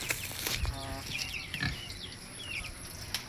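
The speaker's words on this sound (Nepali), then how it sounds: "हाम्रो जेठान दाइको सुँगुर" A pig grunts and oinks in short bursts amid steady outdoor background noise, with a few brief scuffs and knocks.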